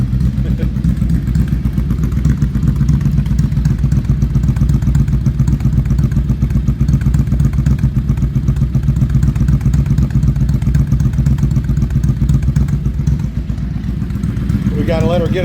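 A 2000 Suzuki VZ800 Marauder with freshly rebuilt carburetors idles close by, a loud, steady, lumpy V-twin chug that holds evenly throughout, with a voice talking over it near the end.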